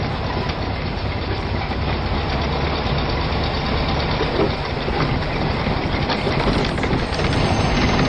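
A steady, loud engine roar with a deep rumble, continuous and unbroken throughout, as if heard from inside a moving vehicle.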